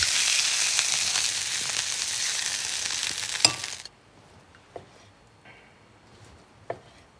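Beef tenderloin searing on all sides in a hot pan, with loud steady sizzling that suddenly cuts off halfway, followed by quiet and a few faint clinks.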